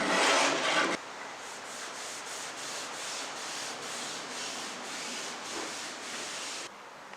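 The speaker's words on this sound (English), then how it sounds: "Sanding and scraping this whole body will take quite a while" Soft, steady scratchy rubbing of sandpaper on the body of a 1930s silky oak sideboard, continuous and fairly quiet, with a louder burst at the very start.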